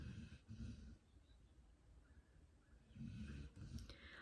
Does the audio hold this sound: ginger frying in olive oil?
no